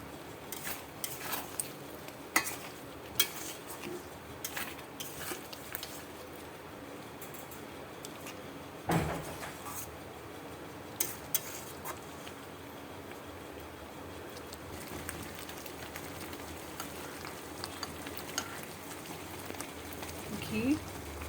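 Paneer pieces sizzle and bubble as they are added to spiced masala in a hot pan, a steady close crackle with a few louder pops, partly under a voice.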